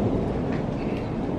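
Heavy rain pours steadily outdoors in sunny weather during work on a broken manifold of an MK7 Golf R, a dense, loud, continuous hiss and rumble with no talk.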